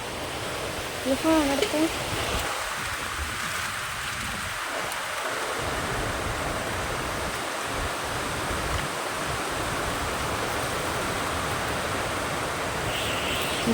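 Heavy, slanting rain falls steadily in a garden, a broad constant wash of noise, with a short burst of voice early on.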